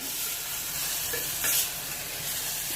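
Stuffed brinjal (eggplant) sautés in a pan with a faint, steady sizzle and a soft scrape of stirring midway.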